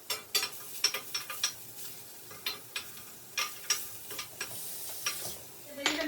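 Onions frying in a pan over medium heat are stirred with a utensil, making a steady run of close clicks and scrapes over a soft sizzle, with no talk.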